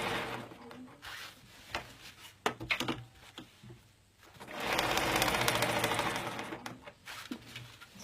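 Domestic sewing machine doing free-motion ruler work on quilted fabric with a Supreme slider, quiet rapid needle chatter in short bursts and pauses, then a longer steady run of stitching, close up.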